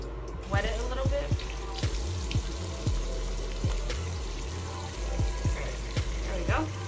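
A bathroom sink tap runs steadily while someone wets their face. The water splashes and patters close by, with a soft hum underneath and a few quiet voice sounds.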